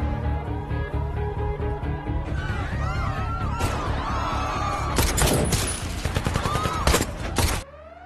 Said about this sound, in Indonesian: kepolisian dan perampok sedang melakukan baku tembak yang sangat menegangkan